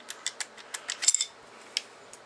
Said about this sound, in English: Again, of course, it's tight, but we're just pulling that barrel free from the receiver.